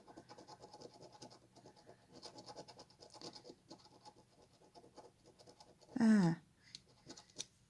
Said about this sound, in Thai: ใช้เหรียญนนะคะ หรือใช้พลาสติกอะไรก็ได้ที่แข็งๆนะ ฝน ไม่ต้องขูดมันแรงนะคะ